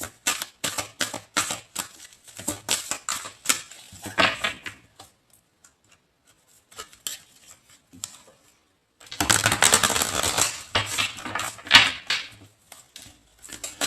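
A deck of tarot cards is shuffled by hand in bursts of quick, crisp riffling and flicking close by, with short pauses between bursts, a longer spell of quiet in the middle, and a final denser stretch.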